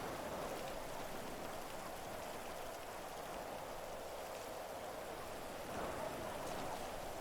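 Heavy rain pouring down steadily during a storm in GTA V, a dense, even hiss filling the whole stretch without pause, fairly quiet overall and with no voices.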